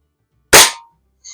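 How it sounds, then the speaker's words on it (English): An air rifle fires a single sharp crack at a can, followed by a short decaying ring and a faint metallic tick moments later. "And I'm shooting out all over that can."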